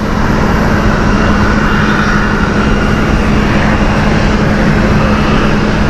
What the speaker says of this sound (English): So this is JFK flight here with Delta